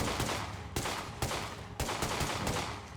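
Rapid bursts of gunfire from a firearm in the zombie survival video game State of Decay 2, loud and close, with several sharp volleys repeating over a few seconds and no talk.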